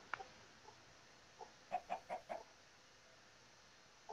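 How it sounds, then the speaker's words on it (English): Chickens cluck in the video game Minecraft, a quick run of four or five faint, close clucks with a few scattered clucks before and after over a quiet background. "Hello, chickens."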